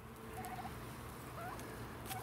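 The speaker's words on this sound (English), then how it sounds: "The turkeys have just come up the hill." Turkeys arriving up a hillside beside a permaculture pumpkin patch give a few short gobbling calls at moderate distance over a steady outdoor background hum.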